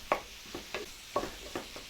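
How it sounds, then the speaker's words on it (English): Ground beef stirred and chopped with a utensil in a sizzling skillet for a cheesy black bean and beef taco dish, about five soft scraping strokes in an uneven rhythm over a faint, steady frying hiss. "Just kind of a little bit of chopping motion to get all mixed in with the"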